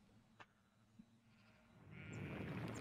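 A stampede of sheep in the video game NU: Carnival builds from quiet into a loud, dense rush of bleating and trampling, preceded by a couple of faint knocks.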